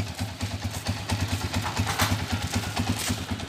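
A motorcycle with a swing arm idles nearby, its engine producing a steady, lumpy low throb of regular pulses at moderate volume, with no one talking.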